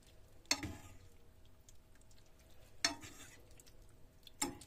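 Parsnip being pressed and mixed with chicken liver for homemade cat and dog biscuits: three separate soft squelching, scraping strokes spaced a couple of seconds apart, close and quiet, with a faint background hum between them.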